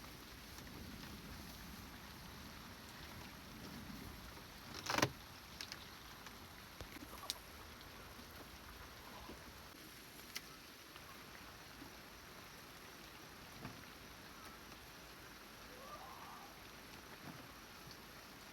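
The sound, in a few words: rain falling nonstop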